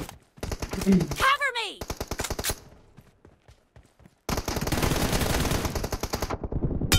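Automatic rifle fire in the mobile battle royale game PUBG Mobile: loud rapid bursts of close shots, a sweeping tone mid-burst, a pause, then a long sustained stream of rapid fire to the end.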